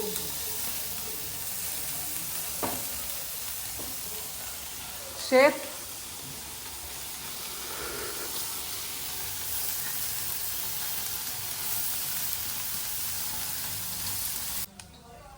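Paneer pieces fry in a pan with a steady, quiet sizzling hiss that carries on throughout, broken by one brief clatter midway.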